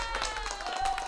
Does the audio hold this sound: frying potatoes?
no